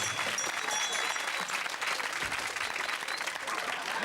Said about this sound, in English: let's have a big round of applause, a bit of appreciation